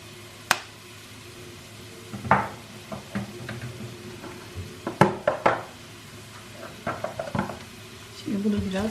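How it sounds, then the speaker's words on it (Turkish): Spoon stirring minced meat and spinach in a pot, a series of scattered scraping clinks and knocks against the metal over a faint low sizzle, sharpest near the middle. "Şöyle tekrar karıştırıyorum."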